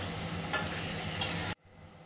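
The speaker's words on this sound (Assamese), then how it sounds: "এতিয়া মই মিডিয়াম ফ্লেমত মাংসখিনি ঢাকনা মাৰি মাৰি ভাজি থাকিম" Chicken pieces fry in a pan over a medium flame for a smoky chicken roast, making a steady close sizzle broken by two brief scraping stirs before the sound cuts off sharply, as if a lid is put on.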